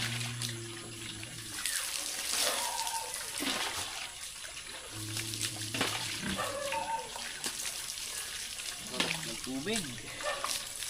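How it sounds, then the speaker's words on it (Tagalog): Water splashes and trickles continuously in the background while people talk over it intermittently. "Malamig na tubig dito."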